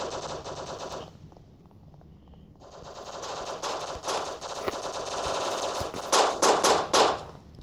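Gunfire rattles in the Block Strike video game as rapid automatic bursts, with a pause, then sustained firing and a few sharp, louder shots near the end, with no talk.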